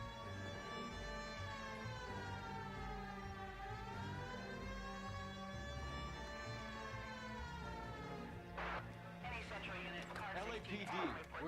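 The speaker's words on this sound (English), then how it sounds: "Hit the siren." A police car siren wails in a detective video game set in Los Angeles, a loud, steady rising-and-falling tone that runs throughout, with a voice speaking over it toward the end.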